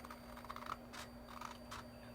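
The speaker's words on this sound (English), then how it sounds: "I'm going to old school it with a pair of scissors" Scissors cutting through several held-together sheets of cardstock to trim the middle section of a woven accordion Christmas card: a few soft, close snips and rustles at low volume, with no talking.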